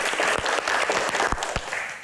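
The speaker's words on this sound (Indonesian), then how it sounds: "Tepuk tangan dong." An audience at a Q&A session with Taufik Hidayat breaks into steady, dense applause lasting about two seconds, with a few sharper claps standing out near the end.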